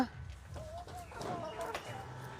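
Chickens cluck faintly nearby in a few short, scattered calls over low background noise.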